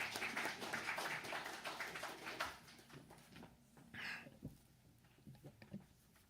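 A church congregation at a Korean Wednesday worship service applauds to welcome the preacher, a faint, dense patter of clapping that thins out and fades over a few seconds.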